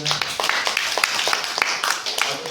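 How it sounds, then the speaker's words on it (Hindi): A small group claps in a quick, steady rhythm, with sharp close claps running for a couple of seconds and no voices over them. "तो नाना जी और सीता के लिए जोरदार ताली हो जाए"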